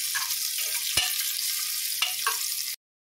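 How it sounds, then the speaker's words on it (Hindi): Chopped onions frying in a pot for veg tehri, a close steady sizzle with a few knocks and scrapes of a stirring spoon, cutting off abruptly near the end. "अब इसमें डाल देते हैं कटे हुए प्याज। इसे 1 मिनट भून लेते हैं।"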